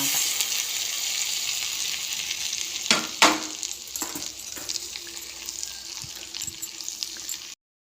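Hot oil is poured over chicken pickle, giving a continuous crackling sizzle with a couple of sharper bursts midway, then fading into steady frying hiss before ending abruptly.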